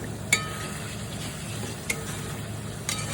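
Katla fish curry (kalia), with ghee just added, is stirred in a pan: a steady sizzle runs throughout, with a few sharp clinks of the spoon striking the pan.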